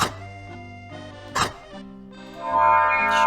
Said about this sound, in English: Shout out to my neighbor's dogs and whatever it is they're barking at.